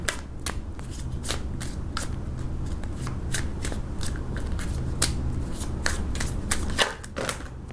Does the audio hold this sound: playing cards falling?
yes